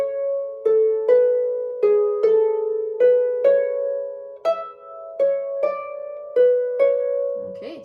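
A harp plucks the third phrase of a piece beginning on C, about a dozen ringing notes in a moderate, uneven rhythm, each decaying gently, close and clear with no talking.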